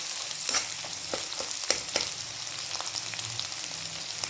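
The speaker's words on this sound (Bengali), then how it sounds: "ডিমটা এক সাইডে ভেজে নিচ্ছি" An egg fries in a pan with oil in a home kitchen, giving a steady close sizzle broken by sharp crackles and pops and a few light scraping taps.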